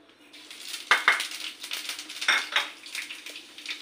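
Panch phoron spices hit hot oil in a pan, making short crackling sizzles with sharp metallic clinks and scrapes, loudest in a few quick bursts.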